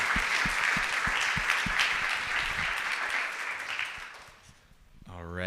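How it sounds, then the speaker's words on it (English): Warm welcome applause from a conference audience at a farm food-loss solutions showcase, steady dense clapping for about four seconds that fades out before a voice begins at the end. "Warm welcome applause from Lisa."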